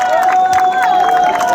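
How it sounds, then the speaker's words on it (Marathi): Crowd cheering and shouting at a girls' Dahi Handi festival in Thane, Mumbai, a loud dense roar of voices with scattered clapping and an amplified voice carrying over it. "जोरदार टाळ्या वाजवूया आपण सर्वांनी हात वर करून मला दिसू द्या."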